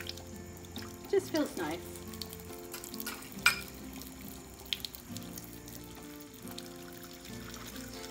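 Warm tap water runs and splashes while dishes are washed by hand in soapy suds, a soft continuous trickle with a few clinks, under a calm voice talking.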